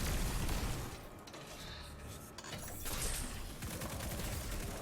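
Grenade explosions in Destiny 2 gameplay burst in heavy, rumbling booms layered with crackling blasts, loud and dense throughout the short stretch.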